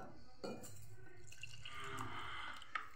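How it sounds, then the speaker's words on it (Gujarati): Half a cup of water is poured into a bowl of semolina and yogurt batter, making a soft, steady splashing pour that builds over a couple of seconds. "હવે આપણે એની સામે 1/2 કપ જ પાણી ઉમેરશું."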